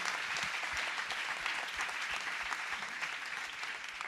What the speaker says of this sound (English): I think we can clap for that.